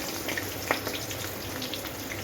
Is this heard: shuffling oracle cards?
no